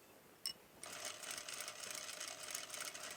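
Faint sewing machine stitching a seam: a soft click, then a steady, even whir of the needle running continuously at moderate speed.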